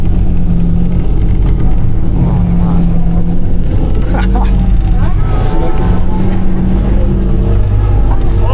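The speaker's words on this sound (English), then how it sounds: "It's like this massive army truck looking thing" A massive army truck drives over rough ground, its loud engine droning steadily close by with jolts and rattles, while people talk over the noise.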